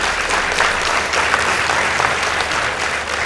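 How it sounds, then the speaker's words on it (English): An audience at a school debate between St Francis Mang'u and PCEA Kikuyu Boys breaks into sustained applause, a dense even wash of clapping that holds steady throughout. "Let's give them a round of applause."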